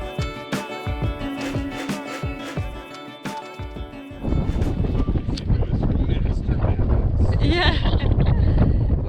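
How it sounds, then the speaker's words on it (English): Gusting wind buffets the microphone while water slaps and churns around a boat hull, loud and close, after a stretch of clinking sounds. "the wind is creating this chop"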